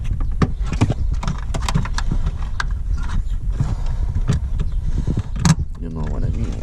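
Plastic tabs on a Mini R53 light housing are pried and popped loose by hand, giving a dense run of sharp clicks, snaps and rattles under someone talking.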